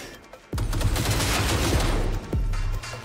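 Gunfire in the video game Cyberpunk 2077: a sustained burst of rapid, loud shots crackling almost without pause, broken by a brief gap before a second burst.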